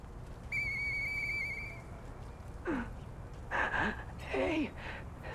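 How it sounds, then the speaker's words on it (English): A whistled tune sounds in the video game Lies of P: a held flat tone first, then several short rising and falling whistled phrases, moderately loud over a low background hum. "Hey, that sound. Is that you, Murphy? I know that whistle."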